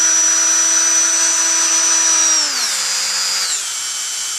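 A handheld rotary tool much like a Dremel Moto tool runs alone at high speed, a steady loud whine that drops in pitch twice as the speed is stepped down.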